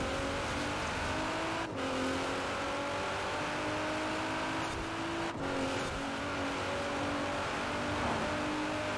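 A car engine roars at full throttle in the video game Forza Horizon 4, holding a loud, steady whine that briefly dips at two quick gear shifts before climbing again, with no voices.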